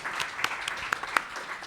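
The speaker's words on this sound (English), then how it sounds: "A big clap for them." Scattered audience clapping at a freedom-of-expression forum session in Rwanda, a brief light patter with a few sharper claps standing out over a hum of room noise.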